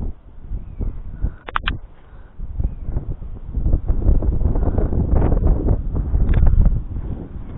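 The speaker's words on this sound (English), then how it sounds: "The strongest the wind blows, our branch will just break off." Strong gusty wind on a farm buffeting the microphone in heavy, surging rumbles that swell louder toward the end, with brief higher rustles and a faint distant bird, no talking.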